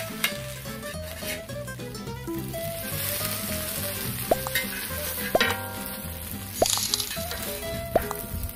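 A kimchi pancake sizzles and fries steadily in a pan, with a busy crackle running throughout and scattered clinks and scrapes from stirring utensils. No one speaks.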